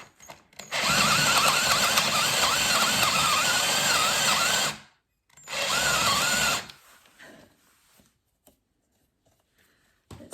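A power drill whines loudly for about four seconds while drilling a radiator cover, stops, then runs again briefly before fading into quiet handling noises.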